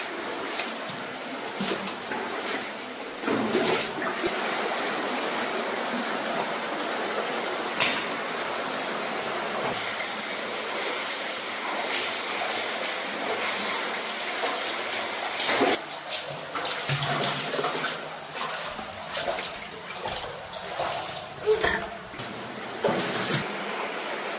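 Groundwater flowing through a cave makes a steady, dense rushing wash that fills the whole stretch at an even level. Occasional faint knocks sit beneath the constant flow.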